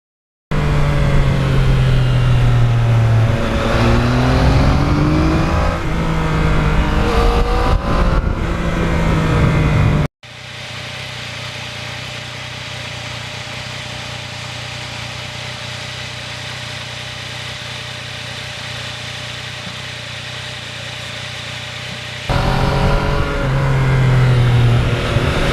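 A 2020 Yamaha MT-09 motorcycle out on a ride on a fine day: a steady engine drone with revs climbing and dropping, then a long, flatter, wind-washed stretch before the engine note returns. No one talks.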